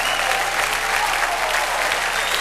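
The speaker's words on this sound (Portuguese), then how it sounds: "Vamos dar uma salva de palmas para Jesus." Congregation at a Jimmy Swaggart ministry service claps for Jesus, a dense, steady wash of many hands filling the space at close range without letup, with a faint voice or tone drifting underneath.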